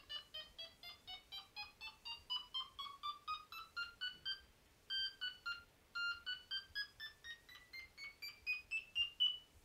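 Delkim bite alarm emitting a rapid run of electronic beeps whose pitch sweeps up, pauses, and climbs again as the tone is adjusted, close and loud with no talking.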